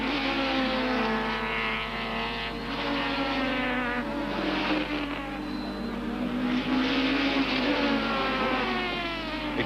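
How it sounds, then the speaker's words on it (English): Super touring race cars, including Audis, a BMW and a Nissan Sentra, roar past at Zwartkops circuit in a 1995 round, with engines rising and falling continuously as they pass. "White is now coming under attack from Chris Aberdeen in the second Audi and Dion Joubert in the BMW Enviro car"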